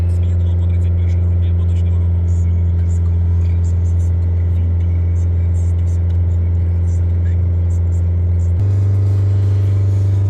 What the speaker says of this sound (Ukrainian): прогріваємо далі автомобіль, він прогрівся зараз на 90 градусів